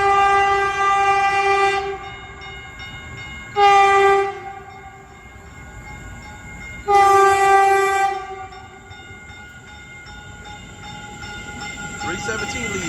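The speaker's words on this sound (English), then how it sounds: "this is the EMU Statler coming on track number" A Caltrain electric EMU train arriving on the northbound track at Redwood City station sounds three long, loud multi-tone horn blasts, followed by a rising rumble of the approaching train.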